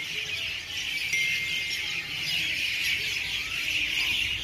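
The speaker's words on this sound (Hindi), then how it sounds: "यहाँ पे पक्षियों की चहचहाने की आवाज़ आ रही है काफ़ी ज़्यादा" Many birds chirp continuously in the evening in rural Himachal hills, a dense, steady high twittering chorus at moderate distance, with no one speaking.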